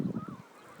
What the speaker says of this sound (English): There's a lot of bird life